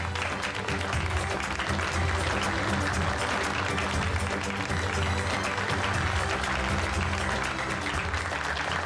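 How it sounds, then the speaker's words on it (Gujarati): Steady, dense applause from a studio audience at a television show, loud continuous clapping that fills the whole stretch without a break. "તાળીઓ તો પાડો."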